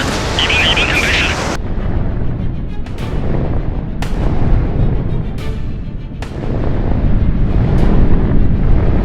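Missiles fire from launchers in a series of loud, rumbling blasts, about five of them, each starting sharply and then fading into a low roar. Someone speaks over them, calling out orders like radio commands.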